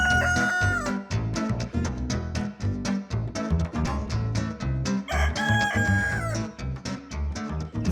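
A cartoon rooster crows loudly over busy background music that stays steady through the clip.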